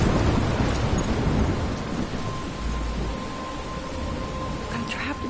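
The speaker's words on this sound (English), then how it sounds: "I'm trapped in a storm?" A heavy thunderstorm with rain in the video game Life Is Strange: a dense, loud hiss of rainfall over low rumbling thunder that swells early and settles into a steady roar.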